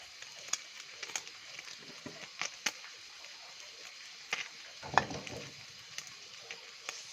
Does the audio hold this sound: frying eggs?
yes